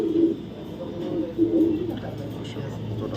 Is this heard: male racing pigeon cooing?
yes